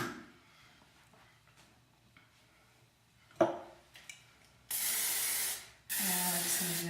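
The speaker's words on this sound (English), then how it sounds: "And I'm just going to do an all-over spray with hairspray." Hairspray is sprayed all over styled hair in two long, steady hissing bursts, close and fairly loud, after a few quieter handling clicks.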